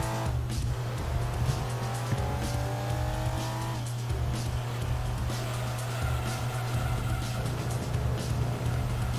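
A Ford Cougar in Gran Turismo 2 drives with a constant engine drone and shifting revs, and tire squeal and skidding come in over the top of it.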